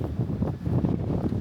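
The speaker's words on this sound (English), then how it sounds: "It's so windy." Steady, blustery wind buffets the microphone with a low rumbling roar that holds throughout, no voices heard.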